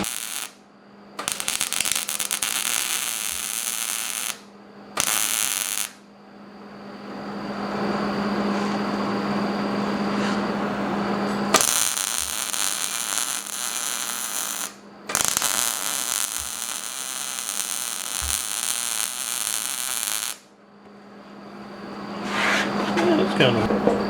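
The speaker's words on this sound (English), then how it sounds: "I can just kind of heat it while I'm welding it and keep it moving" Arc welding on 1/4 inch steel stock for a swage block stand, long steady crackling buzz in several bursts separated by short pauses, with a low hum underneath.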